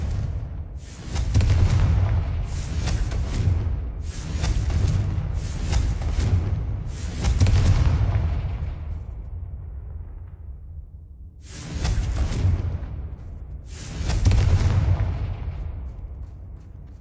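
Confringo blasting curse explosions in a video game, a series of heavy booming blasts in quick succession, then a pause and two more loud bursts, each with a rumbling tail.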